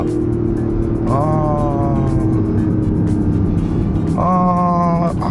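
A Toyota GR Yaris GRMN engine runs on a test drive, heard from inside the car as a steady hum. Twice the revs climb briefly into a rising tonal whine before dropping back.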